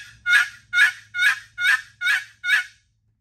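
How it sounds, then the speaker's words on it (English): Turkey box call worked by sliding the lid back and forth, giving six evenly spaced, loud, raspy yelps in a steady rhythm before falling silent, with no voice over them. "That's the simple basics of using a box call."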